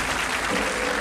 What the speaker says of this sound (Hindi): तालियों की गड़गड़ाहट के बीच परफॉर्मेंस तो खत्म होती है